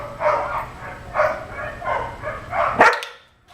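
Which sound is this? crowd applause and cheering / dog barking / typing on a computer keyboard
dog barking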